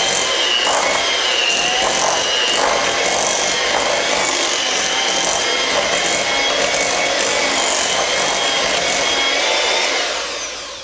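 An electric mixer whirs continuously and loudly, close up, as it beats Italian cream cake batter flavored with almond extract and salt, tapering off near the end.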